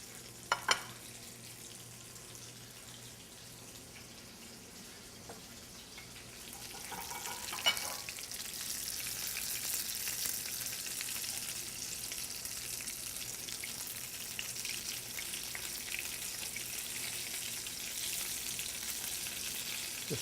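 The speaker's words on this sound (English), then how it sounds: "Just turning them one more time to make sure I've got them cooked on all sides." Food fries steadily in a pan with a soft continuous sizzle, broken by a few scraping knocks as the pieces are turned, and the frying grows slightly louder midway and holds to the end.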